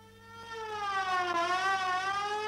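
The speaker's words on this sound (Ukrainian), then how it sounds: "Швидка допомога швидше до нас." Cartoon ambulance siren wailing alone, a rising and falling electronic tone that swells from moderate to louder over a couple of seconds.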